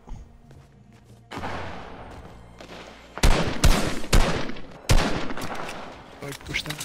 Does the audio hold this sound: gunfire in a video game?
yes